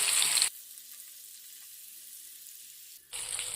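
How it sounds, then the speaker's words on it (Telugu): Fish pieces shallow-frying in oil in a pan over a medium flame: a bright, loud sizzle opens the clip, drops to near silence with a low hum, then returns briefly at the end. "మంటని మీడియం ఫ్లేమ్లోకి అడ్జస్ట్ చేసుకొని ఇలా ఒక సైడ్ ఫ్రై చేసుకోండి."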